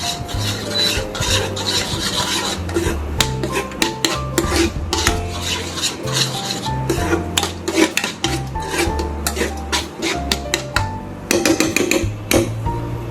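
Scraping and clattering of a utensil stirring thick paste for a pahadi paneer curry in a metal pan, steady and close, with repeated rasping strokes and no talking.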